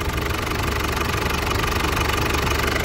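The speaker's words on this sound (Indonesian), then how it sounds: "Coba Mas, gas 1500 brebet." A diesel car engine held around 1500 rpm during an injector test, running rough with a steady uneven knocking and sputtering throb, loud and close with no talk over it.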